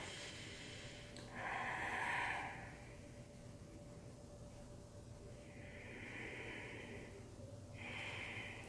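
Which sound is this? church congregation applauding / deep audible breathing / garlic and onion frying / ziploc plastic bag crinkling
deep audible breathing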